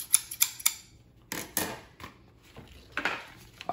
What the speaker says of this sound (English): I got some super shears. These are some scissors